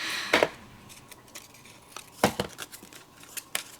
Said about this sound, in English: So I'm going to cut this down